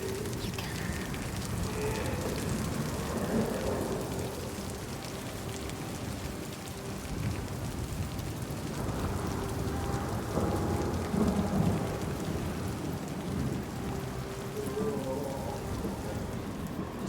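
Steady, dense rain pours throughout a stormy scene in the video game Senua's Saga: Hellblade II, with deep thunder rumbling and rolling beneath it. There are no voices.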